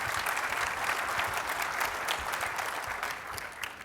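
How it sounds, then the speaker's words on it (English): Dense, loud audience applause at a Samsung technology keynote, continuous clapping from a large crowd throughout, easing slightly at the close. "Let's give him a big applause."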